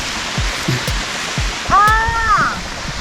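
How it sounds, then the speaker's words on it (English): A waterfall on the Fiery Gizzard trail gives a steady broad rushing roar, with a brief voice and footsteps close by. "It's a really pretty waterfall."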